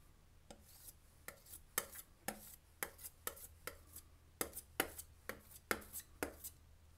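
A palette knife or brush mixing Prussian blue, Van Dyke brown, alizarin crimson and sap green oil paints on a palette, a string of quick, sharp taps and scrapes in an uneven rhythm, close and quiet, with no talking.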